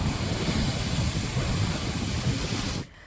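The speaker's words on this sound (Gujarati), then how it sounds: "10 થી 12 ફૂટ ઊંચા મોજા ઉછળી રહ્યા છે।" Heavy surf from a stormy sea with waves rising ten to twelve feet roars continuously and loudly, a dense wash of breaking water and wind that cuts off abruptly near the end.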